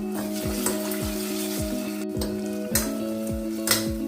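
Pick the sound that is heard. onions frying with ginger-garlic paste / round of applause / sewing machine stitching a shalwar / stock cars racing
onions frying with ginger-garlic paste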